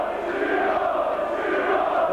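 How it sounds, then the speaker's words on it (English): Rugby league crowd at a St Helens v Halifax playoff cheering a player as he leaves the field, a steady massed roar of many voices filling the whole short stretch. "Brendan Hill gets the popular side choir's cheer as he comes off"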